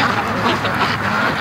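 Ducks quacking outdoors on a homestead pond, a busy overlapping chatter of calls that runs steadily through the moment, fairly close and moderately loud with a broad noisy wash behind them.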